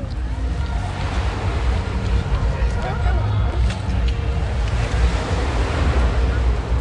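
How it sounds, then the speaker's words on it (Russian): Sea surf washing onto the shore at Sochi, a steady broad roar of waves mixed with heavy wind buffeting the microphone, with people talking nearby. "ну пойдем потрогаем море"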